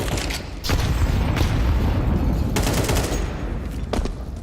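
A grenade blast in a Counter-Strike esports match at IEM Dallas 2025, heard as loud booming bursts within a dense stretch of rapid gunfire and clattering game sounds, close and continuous.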